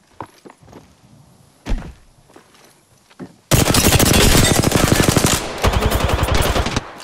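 Apex Legends shooter gunfire: after a few quiet thuds and footsteps, a loud sustained automatic burst erupts and keeps hammering in fast, evenly spaced shots with a brief break near the end.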